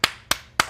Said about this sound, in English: I can't stop clapping.